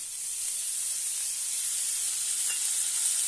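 Cooked rice with lemon juice is stir-fried in a pan for South Indian lemon rice, giving a steady, even hiss of sizzling throughout.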